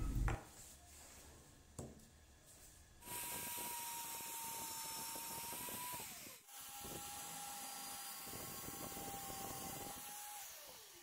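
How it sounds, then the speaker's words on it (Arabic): A router whines at a high steady pitch as it cuts a hole in plywood, starting and stopping twice, with a hissing, grinding cut beneath the tone. "هبدأ احليها باستخدام الراوتر واعمل فيها ثقب في المنتصف"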